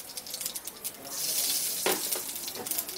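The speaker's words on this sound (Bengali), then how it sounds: "এখন আমি বাদবাকি তেলের মধ্যে একটু কালো জিরে ফোড়ন দিলাম" Nigella seeds sizzle in leftover hot oil in a pan after fish has been fried, a steady close crackling hiss that swells and holds, with a brief louder burst as they hit the oil.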